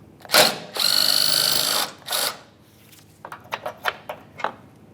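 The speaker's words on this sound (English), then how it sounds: "We'll remove that screw, and then we'll do the same thing on the other side of the license plate bracket." Power driver backing out a T40 Torx screw from the bumper cover of a 2010–2013 Ford Transit Connect, a sharp close whir followed by a long sustained run and a shorter burst, then scattered light clicks and taps.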